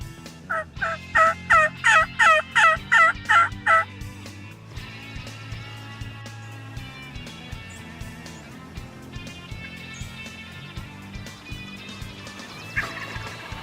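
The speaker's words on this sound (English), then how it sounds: "this bird was really content to just stay out there the whole time and just strut and gobble occasionally" A wild turkey gobbles during an Indiana spring youth turkey hunt, giving a rapid string of about eight loud pulses at the start before a quieter, steadier background takes over.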